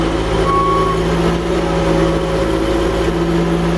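A John Deere 650J dozer runs loud and close while its blade is moved, steady diesel drone with a tonal hydraulic whine holding throughout and no voices.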